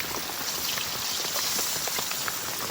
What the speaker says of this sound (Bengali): বৃষ্টি হচ্ছে এখন টেন্টের ভিতরে ঢুকতে হবে